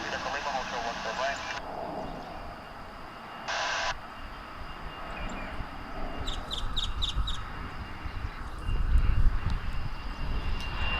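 Jet aircraft engines rumble at Dallas/Fort Worth International Airport, a broad, swelling roar that grows louder toward the end, with crows cawing and a voice speaking over it.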